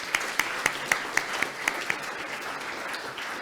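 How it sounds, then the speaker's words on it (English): An audience at a European Charcot-Marie-Tooth specialists conference applauds, with a run of sharp, regular claps standing out over a steady wash of clapping that carries on after they fade. "I would like to first give a big applause to all the rapporteurs"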